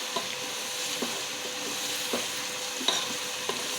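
Chickpeas frying in a pan for chana pulao over raised heat, a steady close sizzle broken by periodic scraping stirs and occasional soft clinks.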